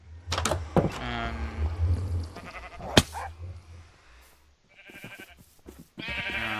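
Sheep in the video game Minecraft bleat a few times in short, wavering calls, mixed with clicks and other game sounds at close range, with no talking.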